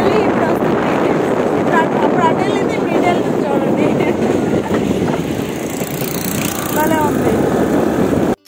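A train rumbles past steadily and loudly with rhythmic clattering and a high metallic squeal, then cuts off abruptly at the end.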